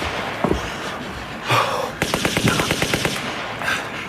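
Gunfire in an old-time radio drama: a burst of rapid machine-gun shots with a few separate single shots, loud and close, no talk over it.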